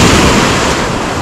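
Sea surf washing onto the central beach at Lazarevskoye near Sochi, a steady broadband roar of waves throughout, loud and close with some wind rumble and no talk.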